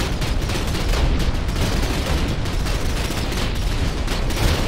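Turret gunfire from a capital ship in a space combat video game, a dense, continuous barrage of loud rapid blasts with no pauses.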